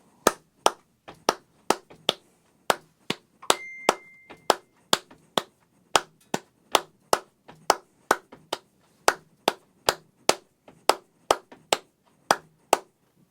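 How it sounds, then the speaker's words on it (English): Hand clapping a clave rhythm for bossa and samba, sharp, close claps repeating in a steady syncopated pattern of groups of three and two, loud and dry against near silence, with no talking. "the clave, which is this repeated rhythm, sounds like this."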